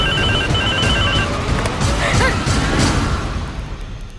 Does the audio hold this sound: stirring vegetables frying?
no